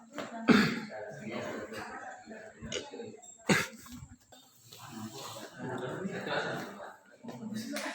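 A couple of sharp coughs break through ongoing talk, with a quieter throat-clearing burst in between.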